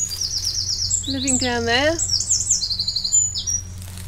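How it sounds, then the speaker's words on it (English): Birds chirp and trill in short bursts echoing under a bridge on an English canal, heard from a cruising narrowboat over a low engine hum, with someone speaking briefly partway through. "every time you come under here, the birdsong is amazing."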